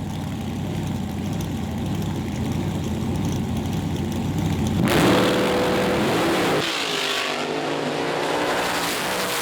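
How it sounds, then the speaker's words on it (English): Race cars in a vintage drag-race semi-final with a handicap start roar loudly down the track, a steady engine drone surging near the midpoint before one car passes and the noise shifts to a higher, receding whine. "you see Karen Hay drive on by, and she'll take the win from Stu Stanners"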